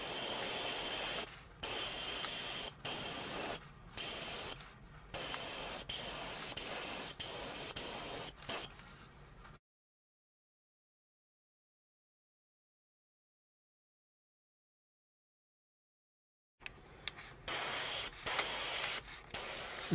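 Aerosol spray paint hisses onto an HO scale Atlas SD35 model locomotive, a series of short, close bursts with brief pauses, then silence before a few more quick sprays.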